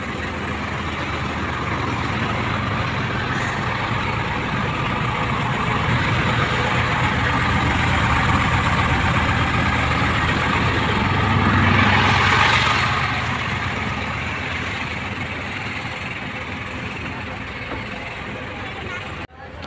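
A Shahzad Express intercity bus, a Bala Gujjar service, idles with a steady low diesel rumble. A swell of louder engine or passing-vehicle noise rises and fades midway, and speech can be heard faintly over it.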